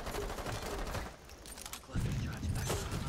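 Fuze's cluster charge detonating during a Rainbow Six Siege team deathmatch on the House map: a dense, rapid string of sharp blasts that falls off briefly, then returns louder and heavier near the end.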